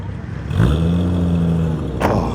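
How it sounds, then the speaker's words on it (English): A six-cylinder Triumph classic car's engine revs up and holds, a rising throaty drone passing nearby at an outdoor classic car show, with a sharp clatter near the end. "Listen to the noise. The 6-cylinder engine."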